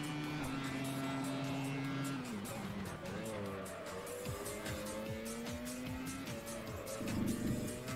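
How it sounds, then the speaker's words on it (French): In the PS2 racing game Grand Prix Challenge, a helicopter following the race car chops rhythmically overhead while the car's engine whines through gear shifts and its tires squeal, with someone talking over it. "L'hélicoptère qui nous suit."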